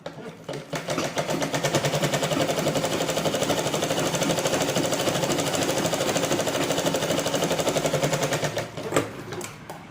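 An electric sewing machine stitches a blouse, a fast steady mechanical rattle running for about eight seconds before stopping, close and loud.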